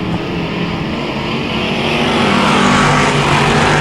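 Dirt track race cars roar through the opening lap of a heat race at Genesee Sportsman, a loud, continuous, close engine drone that swells slightly as the cars pass.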